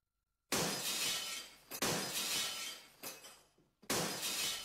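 Glass window shattering three times in a row, each a loud, close, sudden crash with a long bright spray of breaking shards, separated by brief pauses.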